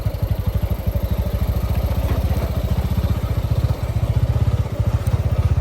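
A motorcycle rides along a village road, its engine thrumming in a steady, close, loud rhythmic putter throughout with no voices.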